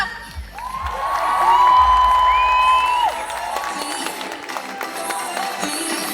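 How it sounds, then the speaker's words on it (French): An audience at a Japan Addict cosplay contest cheers, whoops and applauds the cosplayers, a loud continuous crowd roar with shouts, swelling in the middle and then holding steady. "On applaudit bien fort les cosplayers"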